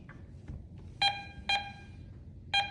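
Ricomax 1037 metal detector sounding three sharp electronic tones as it sweeps over a wheat penny, evenly spaced short beeps against quiet outdoor background.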